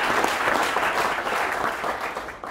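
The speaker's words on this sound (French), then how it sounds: "mais on l'applaudit à monsieur Loris Martz, que je vous demande d'applaudir." Audience applauding at a commerce employees' award ceremony, dense steady clapping from a seated crowd, fairly loud and continuous throughout.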